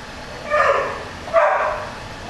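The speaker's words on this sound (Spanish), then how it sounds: "Si escuchan el perrito se llama Malandro." A small dog gives two sharp barks about a second apart, moderately close, over quiet background noise.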